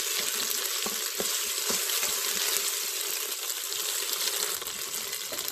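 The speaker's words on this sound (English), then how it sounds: "I will add my ginger garlic paste and cook it for" Ginger garlic paste frying with golden brown onions in a pot gives a dense, continuous sizzle dotted with small pops and crackles, close and steady throughout.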